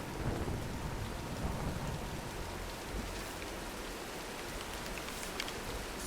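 Heavy storm in the video game Tomb Raider 2013: dense, steady rain hiss with low rolling thunder rumbling underneath throughout, no voices.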